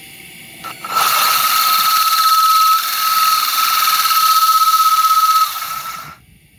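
A power drill whines loudly and steadily for several seconds with a high, constant pitch while drilling a hole in a large urn fountain, then winds down.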